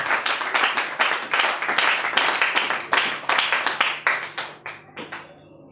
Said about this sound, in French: Acclamons plus fort pour la parole du Seigneur.